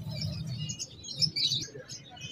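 Small finches chirp in quick, high twitters over a low hum, several short calls scattered across a couple of seconds, at a bird trader's shop.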